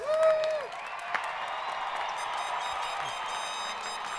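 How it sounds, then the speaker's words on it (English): A graduation ceremony audience cheers and applauds in a steady, sustained wash of clapping and crowd noise heard from a distance, with a brief voice at the start. "let's all get up and let's cheer, stomp for our graduates"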